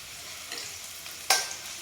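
Garlic cloves frying in oil for pirandai chutney, a soft continuous sizzle with a sharp scrape or clink of a stirring spoon near the end.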